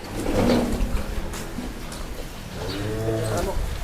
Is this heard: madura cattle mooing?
yes